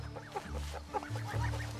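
Backyard chickens being offered sausage cluck close by in short, repeated soft calls over a low background hum.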